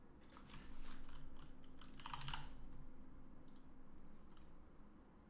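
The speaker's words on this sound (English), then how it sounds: "so I might as well finish typing that." Keystrokes tapped on a computer keyboard while writing React code, a fairly faint and uneven patter of clicks with a denser burst near the middle and scattered taps afterward, no voices.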